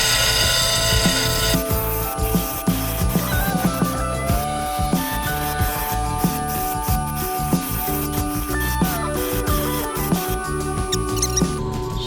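A 100 grit textured Kingsley North electroplated diamond wheel grinds a stone cabochon, giving a continuous close, loud whirring rasp with rapid scratchy fluctuations as the stone is worked against the wheel.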